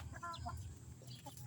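Clucking calls from a rooster, a few short rising and falling notes close by over a steady low rumble, with no talk.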